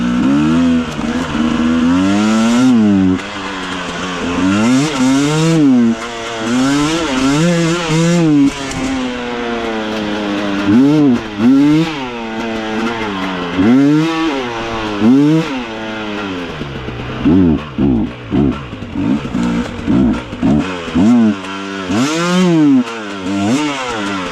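A 2024 KOVI 302 T motorcycle engine revs repeatedly in first gear, rising and falling in loud close bursts with a rough, buzzy tone throughout, no voices over it.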